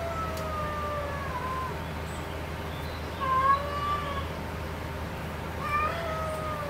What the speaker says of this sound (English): in the background my cat is having a fit